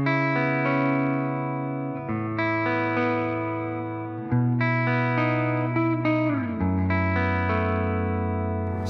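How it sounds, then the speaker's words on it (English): Electric guitar playing sustained chords through a Victory Sheriff 25 tube amp, warm and slightly driven, with rich harmonics and a few chord changes ringing out. "This is the Victory Sheriff 25. It does some amazing driven tones, but it does also do clean."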